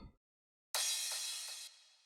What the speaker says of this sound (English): Crash.